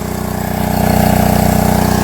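Engine-driven water pump running at a well by a brick kiln, a loud close steady chugging with a fast even pulse that swells slightly in strength after the first moment.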